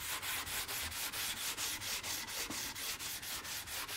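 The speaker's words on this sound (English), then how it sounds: "when you use hand sandpaper like that, you're naturally going to go over the edge like this" Oak wood veneer sanded by hand with loose sandpaper, rapid back-and-forth rasping strokes in an even rhythm of about three per second, close and steady with no talking.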